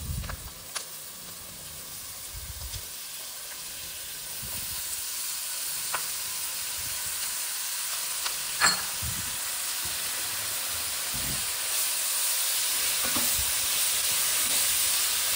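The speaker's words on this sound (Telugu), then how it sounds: "నెక్స్ట్ ముల్లంగి తురుము పెట్టుకున్నాం కదా, దీంట్లో వేసుకొని కలుపుకున్నాము." Grated radish sizzling in a hot pan while being mixed, a steady hiss that grows slightly over time, broken by occasional soft scrapes and clicks of the spoon, close and without talk.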